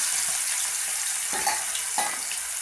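Turmeric-coated chicken pieces fry in oil for a curry, giving a steady, close hiss of sizzling with a couple of brief soft knocks.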